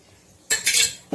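A spoon stirs chopped coriander leaves and ghee into a simmering ridge gourd kofta curry, giving a close burst of metallic clinks and scrapes after a moment of quiet, then a final clink.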